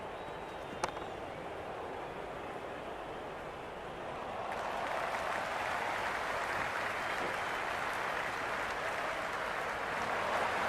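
Crowd at an IPL cricket match between Gujarat Titans and Punjab Kings, a broad steady roar of cheering and applause that swells louder midway and holds.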